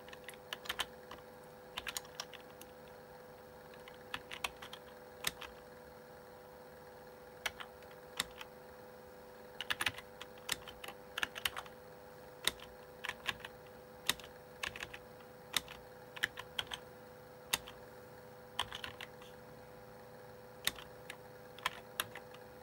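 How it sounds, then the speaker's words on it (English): Keystrokes on a computer keyboard as a short program is typed in, sparse separate clicks and small clusters spread over about twenty seconds against a faint steady hum. "It's a short program that's entered into the keyboard."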